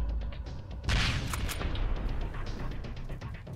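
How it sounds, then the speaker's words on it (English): A grenade blast in the survival game Sunkenland: a sudden loud burst near the one-second mark, followed by a long rumbling, crackling tail that slowly thins out, with no voices over it. "Let's try with one grenade."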